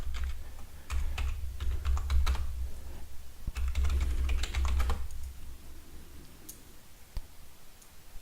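A password being entered on a computer keyboard, quick irregular runs of close, crisp key clicks with short pauses, a few isolated taps toward the end.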